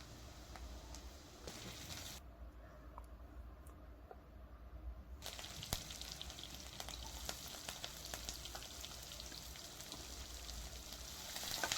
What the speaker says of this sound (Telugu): ఆయిల్ వేడైన తర్వాత నేను ఫోర్ ఎగ్స్ తీసుకున్న వీటిని బ్రేక్ చేసుకొని ముందుగా వేసుకోవాలి